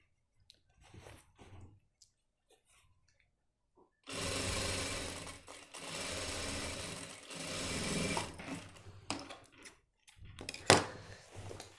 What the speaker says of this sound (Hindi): इस तरीके से सिलाई लगा देंगे इसमें।